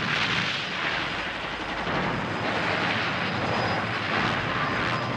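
Military aircraft roaring overhead during an air force bombing raid in an anime, a loud, dense, unbroken drone that holds steady with no voices.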